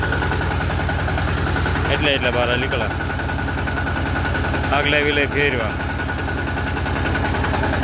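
A mini tractor engine runs with a steady, close, loud throbbing rumble throughout, while people talk over it.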